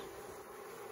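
A honeybee hive buzzes steadily and densely with a sustained drone, continuous and fairly close, no voices.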